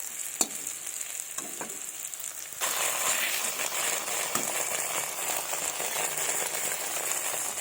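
Browned onions and ground spice pastes of dried chilli, ginger, cumin and onion fry in a pan, the sizzle jumping louder partway through into a steady, close crackle with scraping stirs.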